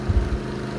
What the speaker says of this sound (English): I run my mower on the sidewalk